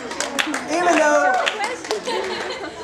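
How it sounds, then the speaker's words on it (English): Audience clapping at a school eighth-grade graduation day, scattered hand claps rising to fuller applause mid-way, with chatter and a little laughter mixed in. "Give her a round of applause, because you know what?"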